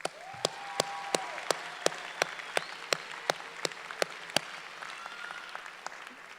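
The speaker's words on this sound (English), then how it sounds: "give yourselves a round of applause" Graduation audience at a Berkeley City College commencement bursts into sustained applause, dense clapping filling the hall with sharp individual claps standing out, steady throughout with no talking.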